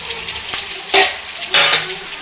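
Chopped tomatoes sizzle steadily in a hot pan, with two louder bursts of frying as they are stirred, no voices.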